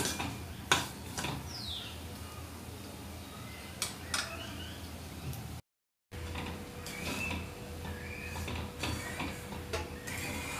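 Semolina roasting in ghee over a low flame, stirred in a pan, heard as soft scraping and clinking of a spoon against metal with scattered ticks and a faint hum, quiet and close.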